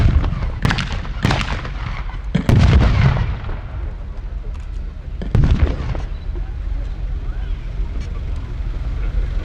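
Loud gunfire at a WW2 battle reenactment: sharp individual shots and a heavy blast ring out at uneven intervals over a rumbling outdoor background, with a commentator talking over it.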